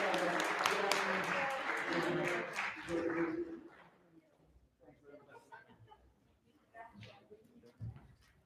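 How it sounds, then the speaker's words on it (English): Audience applause at a jazz festival performance, a dense burst of clapping for about three and a half seconds that then fades out to scattered voices and light movement. "Give a round of applause."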